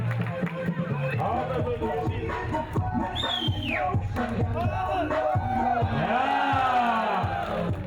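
A large crowd shouts, whoops and cheers around a mountain bike show in Hong Kong, with loud overlapping voices and bursts of excitement filling the whole stretch.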